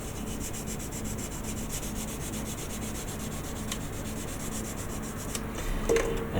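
Sandpaper rubbed by hand across a 1/600 Star Trek Enterprise model in close, rhythmic back-and-forth strokes, steady and fairly quiet, with no talking.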